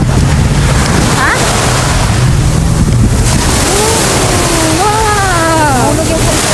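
Sea surf at Jumeirah Beach in Dubai, constant loud wash of waves and wind buffeting the microphone close up, with faint voices and a few high squeaky calls mixed in.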